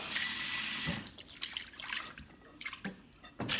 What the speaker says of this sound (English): I'm going to pour this out and rinse my bowl.